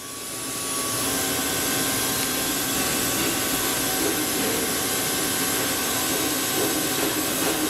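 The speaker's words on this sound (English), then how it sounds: "back working live tools" The back working live tools of a 2011 Tsugami S206 CNC Swiss lathe spin up and then run at a steady high-pitched whir, with a continuous mechanical hum and faint tonal whine and no talking.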